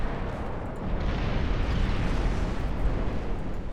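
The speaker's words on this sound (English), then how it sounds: "Ammo detonation." A battleship's ammunition detonating in the naval game Ultimate Admiral Dreadnoughts, a loud, dense rumbling blast that swells and roars continuously for several seconds with heavy low-end weight.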